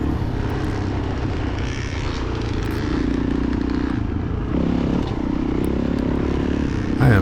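A 2003 Suzuki DRZ400E five-speed dirt bike engine runs hard in fourth and fifth gear during a Cub Mountain cross-country race, a continuous loud drone with slight rises in pitch and some clatter, with no talking.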